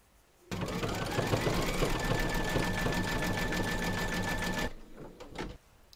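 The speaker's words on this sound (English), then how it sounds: "Load your matching bobbin and thread colour for his belt into your machine and then stitch round number 14" An embroidery sewing machine stitches black thread in a fast, loud, steady rhythmic whir for several seconds, then stops, followed by a few faint clicks.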